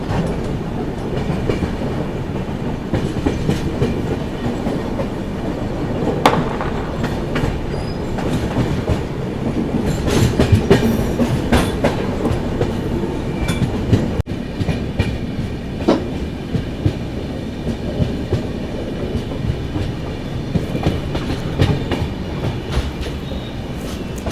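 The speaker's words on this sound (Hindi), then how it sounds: "पूरी ट्रेन ये लाइन छोड़ के दूसरी लाइन पर जा रही है अभी आगे।" A Tamil Nadu Sampark Kranti Express crossing over to another line rumbles steadily, with clattering wheel clicks, rattling carriages and brief metallic squeals from the switches, heard from inside the train throughout.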